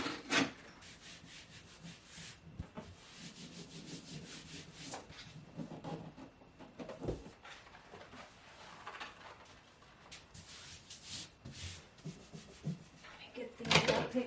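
Wallpaper being trimmed at the back of a bookshelf, soft scraping and rubbing strokes with occasional sharp ticks, quiet and close, repeating irregularly throughout.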